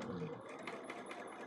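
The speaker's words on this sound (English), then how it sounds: "Now I'm going to just go sew that." A sewing machine stitching quilt pieces, its quiet, steady motor whir running for the whole short stretch in the background, with faint voices under it.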